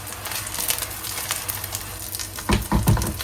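A Chiu Chow luffa pancake fries in a pan with a steady close sizzle and crackle, joined near the end by a few louder stirring or scraping bumps.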